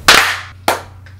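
Two sharp group claps on a count by a few YouTubers, the first louder and followed by a short ringing decay, the second a bit softer, with a faint low hum underneath.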